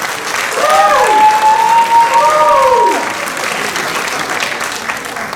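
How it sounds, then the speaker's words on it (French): An audience claps at a Bible theology institute graduation ceremony for the class of 2025, with steady broadband applause and a sweeping, wavering tonal cry rising and falling over it before the clapping eases. "On nous applaudissons."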